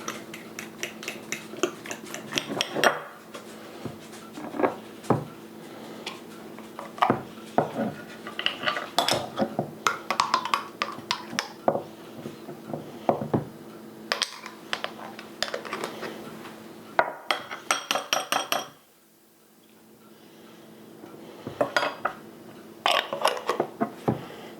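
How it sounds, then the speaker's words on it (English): A utensil scrapes and knocks against a bowl while real mayonnaise is stirred into a crabcake mixture, producing irregular clinks and clatters with short pauses, close and fairly quiet. "I'm going to add a 1/4 cup of real mayonnaise versus fake mayonnaise. I want to kind of mix that in."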